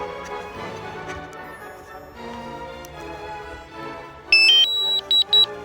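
Bright electronic beeps from a DJI Mavic Mini drone returning home, in a quick burst of pulses near the end, over a steady broadband hum and tonal whine throughout.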